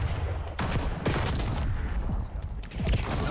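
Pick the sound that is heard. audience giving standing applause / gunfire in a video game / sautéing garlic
gunfire in a video game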